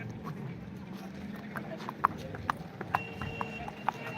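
Hooves of a horse clip-clop at a walk on hard ground at a horse market in Yeola, a series of sharp, fairly close knocks over low crowd murmur.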